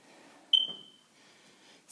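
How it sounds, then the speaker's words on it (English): A single short, shrill chirp from a smoke alarm sounds once inside a house, fairly faint and followed by a quiet room. "Smoke alarm going off."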